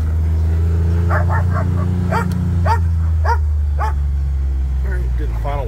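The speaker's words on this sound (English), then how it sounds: "All the dogs are going nuts on me." Several dogs bark and yip in quick bursts at a park, heard from a John Deere Gator XUV835M utility vehicle under a steady low engine rumble, with scattered short barks rising and falling.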